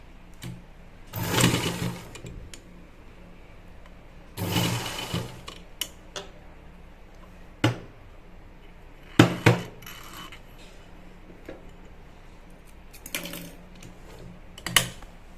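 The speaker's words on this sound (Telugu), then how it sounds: "ఇప్పుడు నేను కుట్టేసి చూపిస్తాను చూడండి" A sewing machine stitches fabric in two short runs of about a second each, surrounded by scattered sharp clicks and taps from handling in a quiet room.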